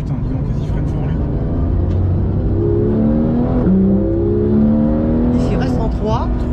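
A car engine on a track rises in pitch as it accelerates out of a braking zone, sustained and fairly loud throughout, with a voice talking over it.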